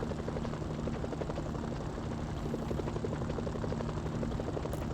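A South Korean military helicopter in a video game flies close by with a loud, steady rotor chop and engine drone that holds evenly for the whole stretch, with a slight sputtering quality.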